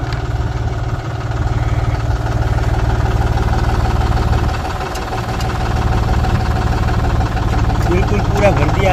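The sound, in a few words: tractor engine running Maschio rotavator at full rpm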